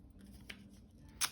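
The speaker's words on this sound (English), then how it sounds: "help them rip the paper up" Paper being torn by a child's fingers into little pieces, a couple of short, sharp crisp tears, the last louder and nearer, over a quiet background.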